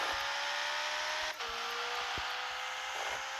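A Honda S2000 engine in the Assetto Corsa racing game hums at a steady, even pitch, holding a smooth drone with a brief dip in the middle and no talking over it.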